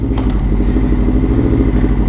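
A 2022 Aprilia RSV4 with an aftermarket exhaust drones steadily while riding, a loud, continuous low engine roar with mechanical clatter and no talking.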